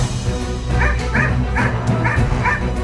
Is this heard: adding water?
no